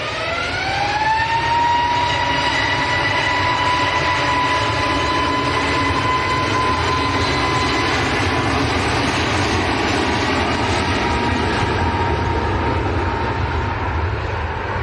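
Jet2 airliner at Manchester Airport, a loud sustained jet engine roar with a rising whine that settles into a steady tone, heard alone for about fifteen seconds.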